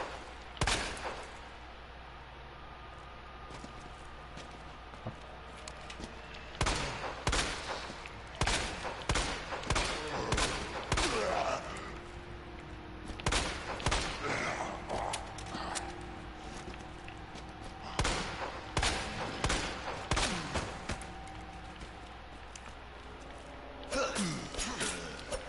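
Bursts of gunfire in the video game Resident Evil 2, with clusters of sharp, loud shots in quick succession separated by quieter stretches, alongside game sounds and occasional speech.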